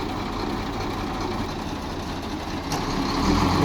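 Heavy truck engines idle with a steady low diesel rumble, swelling slightly louder toward the end.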